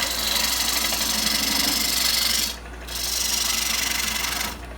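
Wood lathe turning a winged bowl, the gouge riding the bevel as it slowly cuts away wood: a steady close scraping, rasping drone that drops out briefly midway, then resumes and dips again at the end, with no talk.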